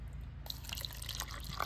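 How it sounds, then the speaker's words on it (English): Warm water trickles from a kettle into a cup in a kitchen, a soft, close pour with light splashing and drips that build slightly toward the end. "And then just add a little bit of warm water."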